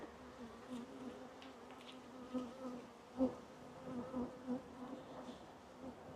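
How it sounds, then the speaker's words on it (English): Dense buzzing of many honeybees in a hive during an inspection, a low steady drone with a few louder individual buzzes passing close by. "there is a lot of bees in this hive still. There is so many bees in it."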